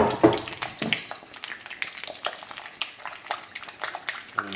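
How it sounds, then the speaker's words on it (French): A whisk beats egg yolks with dulce de leche, giving fairly quiet rhythmic scraping and clinking strokes, steady and closely spaced, with no talk. "J'ai bien travaillé au fouet pour avoir quelque chose de lisse"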